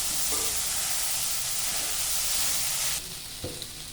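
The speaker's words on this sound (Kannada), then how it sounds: "ಒಂದು ಎರಡು ಮೂರು ನಿಮಿಷ ಸ್ವಲ್ಪ ಹುರ್ಕೊಳ್ಳೋಣ ಜಾಸ್ತಿನೇ ಹುರಿಯೋದು ಬೇಡ" Lentils for hotel-style kesari dal frying in a pan, a loud continuous sizzle and hiss with occasional stirring clinks, easing to a quieter sizzle near the end.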